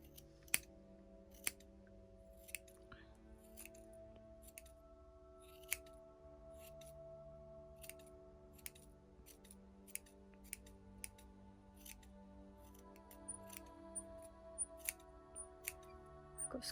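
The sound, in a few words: squeaky scissors trimming gnome decoration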